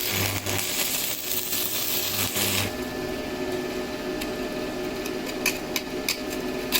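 Boss MMA500 IGBT welding machine arc welding with a 12-gauge electrode: a continuous harsh crackling hiss with a steady hum, loud and close, with sharper pops near the end.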